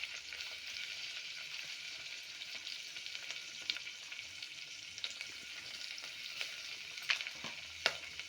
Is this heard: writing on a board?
no